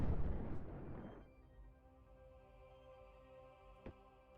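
Guns firing in the strategy video game Creeper World 4; a loud burst of rumbling explosive blasts opens, fading into a low tonal hum, followed by one short sharp pop near the end.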